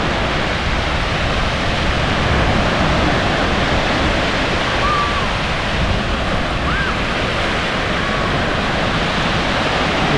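Steady broadband surf rolls on at South Beach, Miami, as ocean waves break continuously with a constant rushing wash and some wind buffeting, loud and unbroken through the whole stretch with no clear voices.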